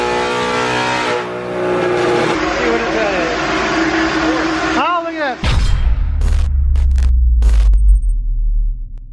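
A modded white Ford Mustang GT on a dyno at Renegade Racing: after talking, the engine bursts into a loud, deep full-throttle roar with a heavy low rumble, broken by several sharp crackling pops near the end.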